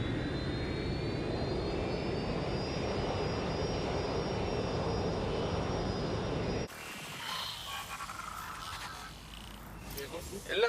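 An airplane's engine in Watch Dogs Legion drones steadily and loudly for about six seconds, then cuts abruptly to a quieter mix of game sounds, with voices faintly present.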